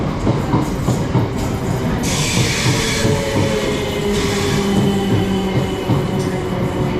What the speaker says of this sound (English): arriving now is the 12:30 South Western Railway service on the loop via Kingston to Wimbledon